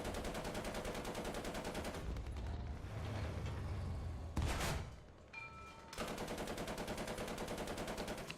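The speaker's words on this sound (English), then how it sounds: "But the machine gun works pretty well, for the most part." Machine gun on an H35 tank in the War Thunder video game fires long rapid bursts, loud and close, with a short pause and a boom-like impact in the middle before the sustained firing resumes.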